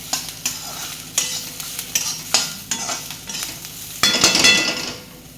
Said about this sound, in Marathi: तर हे पण भाजून घेऊया ह्याच्यात आपण। असं मस्त भाजलं पाहिजे आपण।